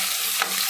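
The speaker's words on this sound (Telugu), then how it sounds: "కొద్దిగా వేగిన తర్వాత అల్లం వెల్లుల్లి పేస్ట్ వేద్దారు." Ginger garlic paste fries with onions in a cooker, giving a short, soft sizzle with a faint scrape of stirring.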